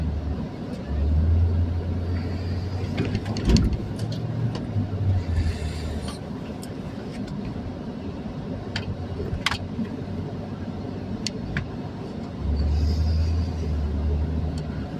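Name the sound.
Sequoia car driving, new radiator and water pump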